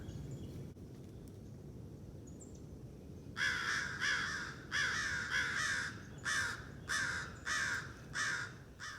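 Crows caw at an owl in oak hammocks, harsh repeated calls arriving in about half a dozen bursts of several caws each, fairly close and loud over quiet outdoor background with no talk.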